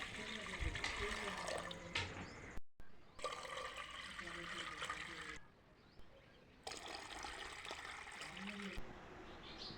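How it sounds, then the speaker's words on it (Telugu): About a litre of water pours steadily into a kitchen pot for pepper rasam, a rushing splash in several bursts with short pauses, while a person talks over it. "ముందుగా ఒక గిన్నె తీసుకొని దానిలో ఒక లీటర్ నీళ్ళు పోసుకోవాలి"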